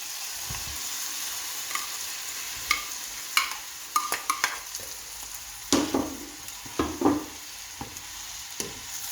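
Beef dropped into a pot of carrots and onions frying for a bourguignon, with steady sizzling broken by scattered clatters and scraping stirs, loudest in a burst of clanks midway.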